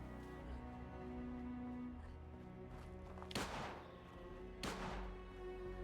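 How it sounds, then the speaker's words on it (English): Two loud gunshots from Fallout 76 combat ring out about a second apart over steady game music and ambience, each a sharp broadband crack with a short tail. "She's shooting at me."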